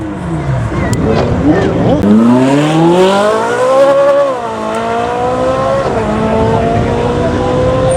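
A Ferrari launching under launch control at a supercar show, its engine revving hard and then pulling through rising gear sweeps as it accelerates away, loud and close with a brief tire squeal.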